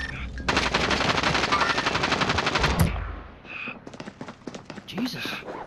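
Automatic weapon fire in Call of Duty: Modern Warfare, a loud rapid burst of machine-gun shots for a few seconds, then scattered game sounds and a voice talking.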